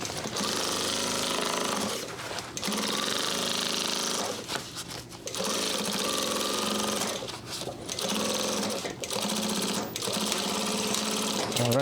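A sewing machine stitches and back-tacks a U-zip duffle bag in bursts of rapid, loud, even clatter lasting several seconds each, separated by short pauses.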